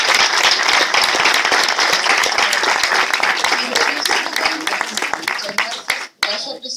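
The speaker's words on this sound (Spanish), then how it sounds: "yo pido un aplauso para Francesca Aldrich," An audience at a Spanish book presentation applauds the presenter Francesca Aldrich, dense sustained clapping throughout that thins and drops away near the end, with some voices mixed in.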